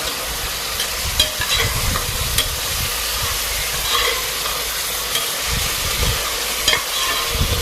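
Onions fry in a pan for Punjabi-style macaroni while being stirred gently, a loud, steady close-up sizzle with low scraping and rustling underneath and no talking.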